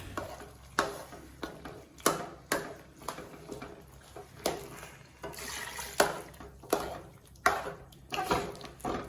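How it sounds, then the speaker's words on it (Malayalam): Coconut milk poured over mashed tapioca in a pan for a Kerala-style dish, heard as soft liquid splashes and repeated scraping stirs in a steady rhythm, close and fairly quiet. "ഇനി നമുക്ക് തേങ്ങാപ്പാൽ ഒഴിച്ചു കൊടുക്കാം"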